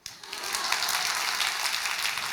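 Audience clapping in a TEDx lecture hall in Taipei swells quickly into a steady, dense patter and holds at an even level for about two seconds.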